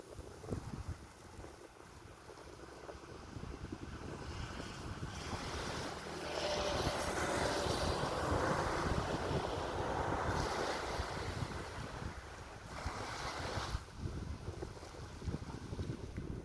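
Cool wind gusts across Pak Meng beach in Trang, buffeting the microphone with a steady roar while surf washes in the background, loud and continuous throughout.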